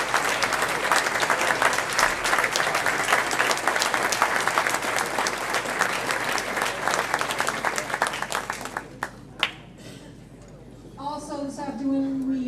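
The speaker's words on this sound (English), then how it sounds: "let's give our committee members a nice round of applause" A large audience at a 2011 running hall of fame induction ceremony bursts into sustained, dense applause honoring committee members, steady for about nine seconds before thinning to a few last claps, followed by a voice starting to speak.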